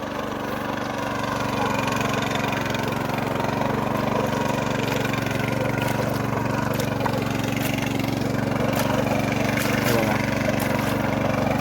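A tractor engine drones steadily at a medium distance while puddling a muddy paddy field, a constant even hum throughout with no clear speech.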